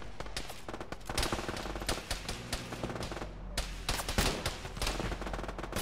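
Rapid automatic gunfire rips through a military shooter game in long, dense bursts, loud and close, with a brief lull midway before the firing resumes just as heavily.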